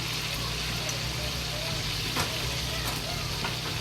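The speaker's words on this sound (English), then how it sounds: "So just let it keep frying" Pork sizzles and crackles steadily in hot oil, a dense, continuous frying hiss close up with a few sharper pops.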